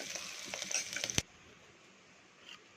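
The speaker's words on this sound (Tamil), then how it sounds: "இதில் வெங்காயம் போட்டு வேண்டியதான். வெங்காயம் போட்டாச்சு. இது வதங்கணும்." Onions sautéing in hot oil tempered with mustard seeds and cumin for a keerai masiyal, a soft crackling sizzle with scattered pops and stirring clatter that stops abruptly, leaving a faint hiss.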